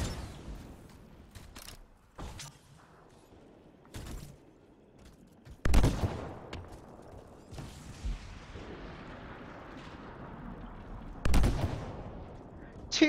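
Gunshots from the video game Anthem ring out as sharp, isolated heavy blasts spaced several seconds apart, each with a short rumbling tail, over a quiet mechanical background.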